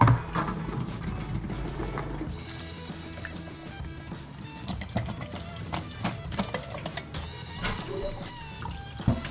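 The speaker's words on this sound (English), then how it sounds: "We're going to drain these as well too, so let's get draining" Canned beans and whole tomatillos are drained in a kitchen, with liquid pouring and splashing, irregular drips and clunks, and a running tap, close and moderately loud.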